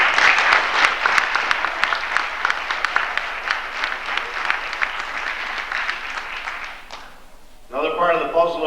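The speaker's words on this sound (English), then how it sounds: "those two people deserve a big round of applause" A crowd claps at a school winter sports awards ceremony, a dense, sustained round of applause lasting several seconds before it fades out and a voice begins speaking.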